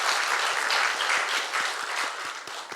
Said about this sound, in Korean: 우리 위로하고 감사하는 박수를 하겠습니다.